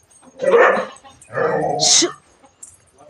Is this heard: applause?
no